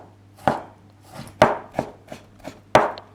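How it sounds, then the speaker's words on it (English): Knife chopping down through thin slices of pork tenderloin on a cutting board for jiaozi filling, seven crisp, close thunks at an uneven pace with a faint steady hum behind. "Very thin slice it first, and shredded them."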